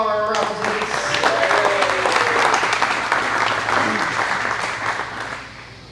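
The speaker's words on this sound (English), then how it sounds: "Give a big round of applause for all our raffle tickets" Audience at a ten-year celebration event applauding raffle winners, a burst of loud, sustained clapping from a crowded room that gradually tapers off, with some voices mixed in.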